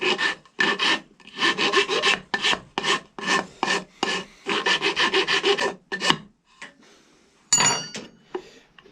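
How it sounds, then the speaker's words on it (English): Small 4-in-1 rasp filing the wooden stock of a ramrod in quick, regular rasping strokes, close and loud, then a pause and a few scattered scrapes. "I'm then gonna take a rasp, this little 4-in-1 guy, and start rasping material off."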